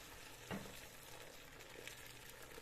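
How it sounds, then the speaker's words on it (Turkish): Boiling water poured over cutlery coated with dish detergent gives a steady hissing, splashing rush with a brief louder splash near the start, continuous and fairly quiet throughout. "Şimdi bunların üzerine ben şöyle kaynar su ilave ediyorum."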